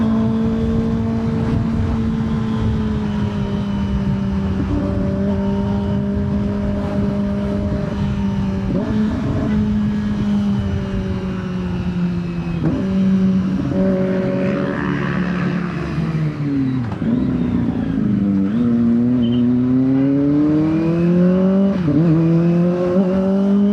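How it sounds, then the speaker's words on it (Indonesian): A Kawasaki ZX25R motorcycle engine held at low revs while riding on a bumpy road, a loud continuous growling drone that rises and falls with throttle changes, close and steady throughout with no speech. "Sumpah gue suka banget RPM bawahnya ZX tuh. Lagi suara-suara ngoroknya ya."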